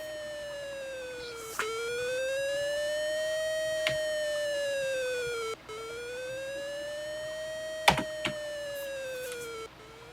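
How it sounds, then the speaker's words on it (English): A TI BASIC type-in siren program on a home computer produces a pure electronic tone that sweeps up and down in slow arcs, fairly loud and steady, broken by brief clicks and a short pause. "Can we get a siren?"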